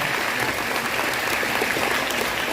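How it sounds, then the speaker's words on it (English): A school audience at a Red Ribbon Week assembly in Atkinson County gives itself a round of applause, a dense, even roar of many hands clapping with no gaps, filling the whole stretch. "Go ahead and give yourselves a round of applause"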